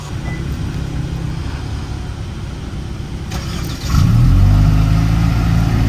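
A Kia Stinger engine hums at idle, then surges into a louder, deeper rev partway through and holds there, close by.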